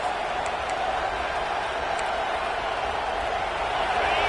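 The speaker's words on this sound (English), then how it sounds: "Listen to the crowd energy here in the early going." A football stadium crowd at an FSU vs Clemson game roars as a steady, dense wash of noise, loud and unbroken, with a commentator's voice over it.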